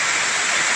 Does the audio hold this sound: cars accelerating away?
no